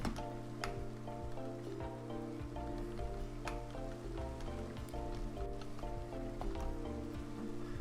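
Minecraft rain falling in a flat world, a steady soft patter under a repeating plinking tone pattern that sits fairly quiet throughout.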